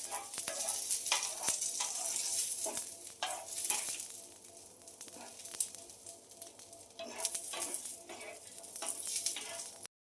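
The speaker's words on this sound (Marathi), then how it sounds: "आता मम्मी लसूण टाकलेला आहे, तो पण आपल्याला छान व्यवस्थित भाजून घ्यायचा आहे" Garlic and green chillies roast and sizzle in a pan for a ridge gourd thecha, with bursts of stirring and scraping against the pan at close range, no talk.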